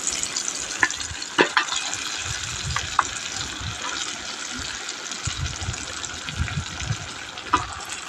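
Meat added to a pan of softened onion, tomato and garlic fries with a steady broadband sizzle, broken by a few sharp stirring clinks and scrapes, with no talk.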